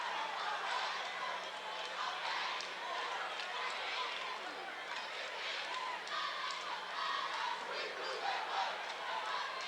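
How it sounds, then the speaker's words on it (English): A high school basketball crowd at a 1997 Class A semifinal between Detroit Redford and Detroit Central makes a steady rumble of noise and scattered cheers, running continuously under a play-by-play announcer's commentary. "that's got some of the crowd making a little noise finally."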